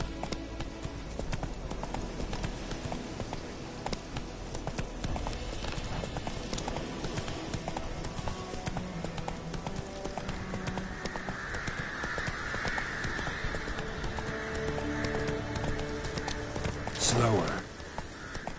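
The horse Roach in Witcher 3 gallops with steady rhythmic hoofbeats, fairly close and continuous, beneath a man's spoken lines, with a sharp bright burst near the end.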